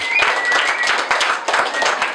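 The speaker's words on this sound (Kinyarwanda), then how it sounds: "Amaboko hejuru twese dukomere Yesu amashyi." A church congregation claps together in worship for Jesus, steady and dense applause running throughout, loud and close, with no talk over it.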